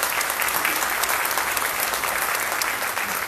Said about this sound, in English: We owe him a round of applause.